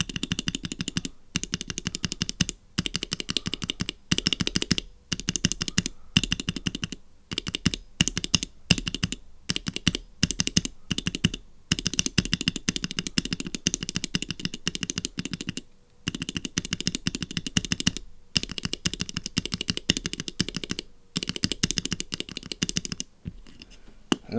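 Mechanical keyboard switches lubricated with sperm oil, bottoming out and topping out in rapid, dense bursts of sharp clacks, loud and close, with brief pauses between flurries and no speech.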